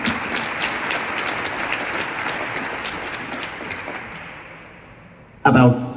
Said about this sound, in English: That needs an applause.